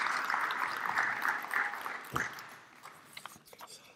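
Crowd applauding at a Maryland State Firemen's Association convention to welcome Miss Fire Prevention, clapping fading out gradually with a few scattered claps left near the end.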